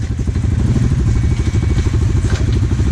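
An off-road vehicle in first gear pulls forward through thick, nasty mud, its engine loud and close with a fast, throbbing, pulsing chug that holds steady throughout.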